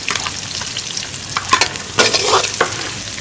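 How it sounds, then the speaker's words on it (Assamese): Garlic, chili and onion frying in hot oil for an outdoor Chinese-style dish, a steady close sizzle with bursts of stirring and scraping. "এতিয়া প্ৰথমতে আমি অলপ ৰহুন আৰু জ্বালা দি দিছোঁ। লগে লগে পিঁয়াজখিনিও দি দিছোঁ।"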